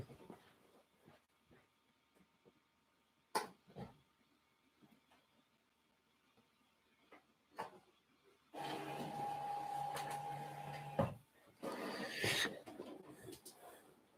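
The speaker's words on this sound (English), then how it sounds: "I have to turn my printer off because it's making funny noises" An office printer whirs and buzzes with a steady mechanical drone for a few seconds, broken by a short gap and a brief resumption, close by in a quiet room after scattered soft handling noises.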